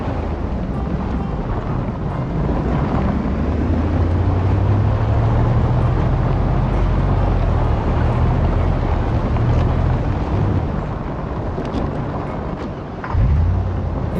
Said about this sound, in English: My engine is making questionable sounds.